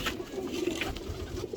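Pigeons cooing softly at close range in a loft, a low steady murmur of calls with a few brief louder bursts and no talking.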